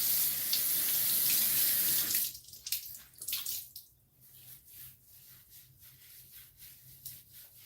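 Tap water runs steadily from a faucet into a sink for about two seconds, then is shut off, leaving soft splashes and drips as hands wet a face after a shower, with no talking.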